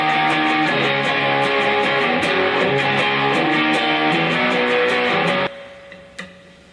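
Distorted electric guitar plays the chorus of a song, loud and dense with steady rhythmic chugging, then cuts off abruptly near the end, leaving faint noise and a brief hit.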